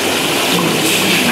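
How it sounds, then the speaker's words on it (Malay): Water pours steadily into a cooking pot while making Minang-style dendeng chicken, a continuous loud splashing gush with no talk over it. "Kemudian kita akan masukkan air."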